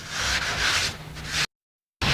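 Soft foam sanding block rubbed over a panel, giving a loud broadband scrubbing in steady strokes that stops abruptly, falls silent for half a second and then starts again.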